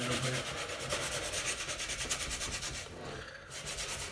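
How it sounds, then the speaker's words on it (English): Wood being roughed up with sandpaper by hand, a close, steady rasping rub in quick repeated strokes, with a short pause near the end before the scraping resumes. "with this particular sandpaper, I am mainly just looking at just roughing it up a bit"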